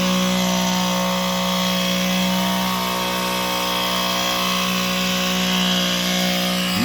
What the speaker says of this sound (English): he likes all the bushes trimmed, so he's busy trimming those bushes